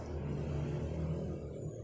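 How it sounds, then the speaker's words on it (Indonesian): Steady roadside rumble of cars and motorcycles streaming past, a continuous mid-level engine drone with no single vehicle standing out. "minta maaf kalau ada suara bising-bising di sebelah saya, karena banyaknya mobil dan motor yang lalu lalang"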